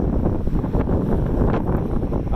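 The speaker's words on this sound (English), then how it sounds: "It is so windy." Strong wind buffets the microphone in a constant low roar, rumbling and gusting with no voices.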